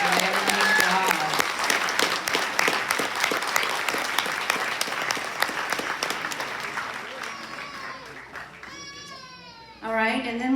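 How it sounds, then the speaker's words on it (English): An audience at a college graduation ceremony claps for graduates wearing green employment cords, a broad crowd applause that gradually fades, with voices and a child's chatter coming through near the end. "let's give them a big round of applause for their nice job"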